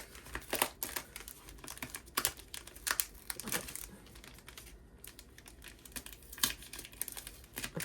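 A package wrapped in heavy layers of tape is pulled open by hand, with close, irregular crinkling, tearing and crackling bursts of plastic and tape, fairly quiet throughout.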